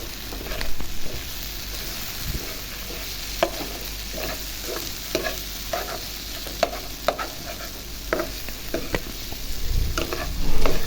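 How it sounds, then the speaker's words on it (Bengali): Boiled egg stirred into eggplant in a frying pan gives a steady low sizzle, with repeated spatula scrapes and taps at an irregular pace and a louder stir near the end. "এই যে দেখুন বেগুনের সাথে মিক্স করে নিয়েছি"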